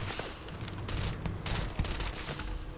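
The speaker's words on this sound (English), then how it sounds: "We're returning fire immediately." A rapid, sustained burst of gunfire in the space game Starfield, a dense crackling volley with repeated sharp cracks throughout and no voices.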